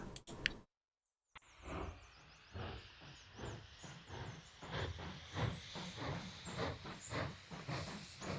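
A steam train in the railway-building game Mashinky chuffs with rhythmic hissing bursts that settle into a steady beat after a short silence.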